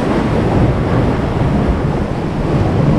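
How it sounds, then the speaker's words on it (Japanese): Strong coastal wind roars continuously into the microphone during winter ice fishing, a loud, dense rush of noise that holds steady for the whole moment without any talk. "風が強くてお湯が沸かせません。"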